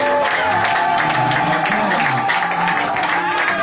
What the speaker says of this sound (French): donnons une acclamation, Seigneur